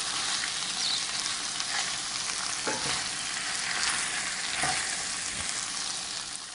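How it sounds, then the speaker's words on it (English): Flour being stirred into potatoes, onions and peppers sautéing in a pan for corn chowder gives a steady, close sizzle with a few soft scraping strokes of the spoon. "So I'm going to stir in the flour."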